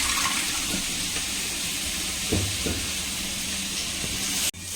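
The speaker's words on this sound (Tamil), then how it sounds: "தண்ணி ஊற்றி மேலே வாஷ் பண்ணிக்கலாம்" Water runs and splashes steadily over greens being washed, a close broadband hiss with a few brief clunks, then cuts off abruptly near the end.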